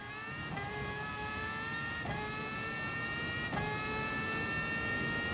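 A race car engine in the racing simulation Gran Turismo Sport holds a steady, high whining drone as the car runs at speed down the track. Brief shifts come every second or so, with no voices over it.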